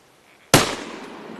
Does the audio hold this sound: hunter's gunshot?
yes